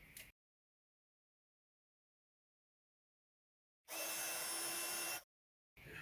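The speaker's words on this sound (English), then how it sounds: "And then I'll heat emboss that one as well." A craft heat tool used for heat embossing a card sentiment roars on in a loud, steady blast of about a second and a half, with brief snatches of the same airflow at the start and end and silence between.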